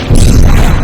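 A Repulso spell blast in Hogwarts Legacy erupts as one loud, dense whoosh-boom that holds at full force for under a second.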